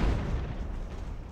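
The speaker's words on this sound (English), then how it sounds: "They just took an artillery hit." Artillery shell hit in the Age of Sail naval battle game Ultimate Admiral, a deep, muffled boom with a rumbling low tail that fades over a second or so.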